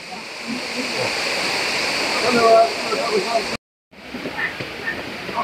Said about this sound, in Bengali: ঝর্ণাটা হিউজ, একদম মাউন্টেনের উপর থেকে নিচে